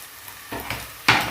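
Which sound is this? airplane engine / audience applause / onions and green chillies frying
onions and green chillies frying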